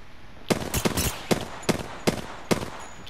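Sharp, evenly spaced gunshots from a video game ring out as about eight distinct cracks in quick succession, loud and alone over a quiet background.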